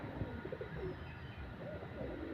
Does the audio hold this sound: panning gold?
no